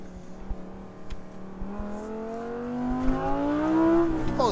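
An Audi R8 V10 supercar on a race track revs and accelerates, its engine note climbing steadily in pitch through the gears, heard loud and close from inside the car.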